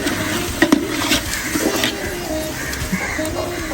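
Biryani masala being stirred in a pan, with repeated close scraping and clacking strokes of a spoon over a steady sizzle of frying.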